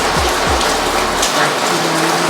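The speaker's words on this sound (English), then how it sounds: "it was raining at the time" Rain falls in a loud, steady, broadband hiss that fills the whole stretch, with a faint low rumble beneath and no voices.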